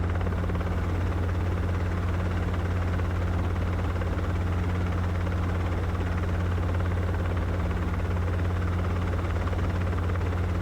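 Training helicopter descending toward landing, its engine and rotor droning as a steady, even hum with constant low tones, close and loud throughout without any speech.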